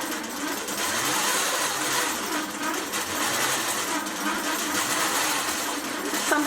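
A JUKI quilting machine stitching a pantograph pattern around embroidery, a continuous fast rhythmic mechanical hum and rattle, close and steady throughout.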